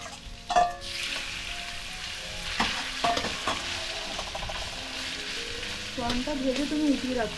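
Chicken marinated in salt and black pepper and prawns fry in hot oil for fried rice, a steady sizzle broken by clattering stirs and scrapes of the spatula against the pan, with louder bursts near the start and end.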